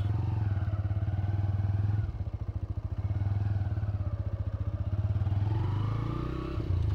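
A TVS Raider 125 motorcycle idles and putters steadily as it makes a tight turn, a close, even engine chug with a brief dip in pitch midway and a slight rise near the end.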